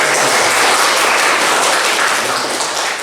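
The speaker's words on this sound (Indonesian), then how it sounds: "Oke, tepuk tangan untuk" Students clapping together in a classroom, a loud, close, steady burst of applause that fills the whole moment and tapers slightly at the end.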